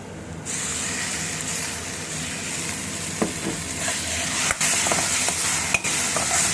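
Masala paste for paneer capsicum curry sizzles loudly in a pan, a constant frying hiss broken by scraping stirs of a spoon, with no one talking.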